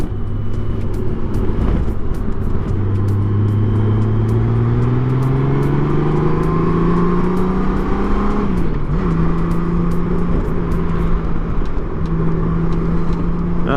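A Honda Gold Wing motorcycle pulling up an on-ramp, its engine note droning loud and steady, rising gradually in pitch before dipping briefly and settling into an even hum, with no voices.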